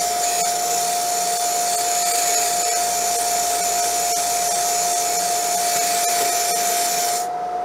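An ARBE jewelry polishing machine runs steadily with a loud, even motor whine and whir while a rake is held against the spinning wheel, then it cuts off abruptly at the end.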